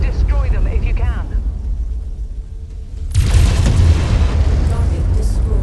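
Backup generators blowing up in the MechWarrior 5: Mercenaries game at a derelict plant, a loud sudden boom erupting midway and rolling into a sustained roar of blast and debris, following a quieter stretch with a voice over game rumble.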